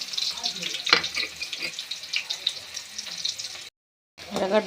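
Chopped onions fry in oil in a pan for an egg fry, with a steady, moderately loud sizzle, occasional stirring clatter, and a short silent gap near the end.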